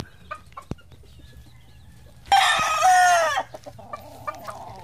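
Roosters among three brother gamecocks cluck in short scattered bursts, then one crows loudly and nearby for about a second before the soft clucking resumes.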